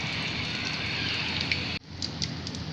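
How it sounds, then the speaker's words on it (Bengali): Beef singaras deep-frying slowly in hot oil, a steady dense sizzling crackle that drops abruptly partway through and then resumes more softly, with no talking. "এগুলোকে এখন আস্তে আস্তে ভাজবো।"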